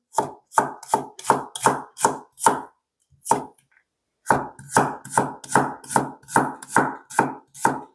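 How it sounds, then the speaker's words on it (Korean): Knife julienning garlic on a cutting board while making nabak water kimchi: a quick, steady run of crisp chopping strokes, a short pause with a single stroke, then another even burst of chops, close and clear with no talking. "마늘 채 썰어 볼게요."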